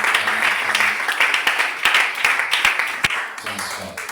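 A church congregation applauds and cheers during a sermon, with steady dense clapping from a crowd and a voice calling out over it.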